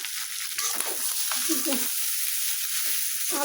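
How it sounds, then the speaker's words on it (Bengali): Potatoes frying in a pan, a steady broadband sizzle with occasional stirring clatter near the middle, close and moderately loud, no voices. "আলু দিয়ে দিছি"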